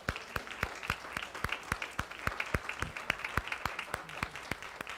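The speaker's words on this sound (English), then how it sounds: "How about a round of applause for this group?" A church congregation applauds a volunteer team, a modest round of distinct, fairly steady hand claps from a small crowd, with no speech over it.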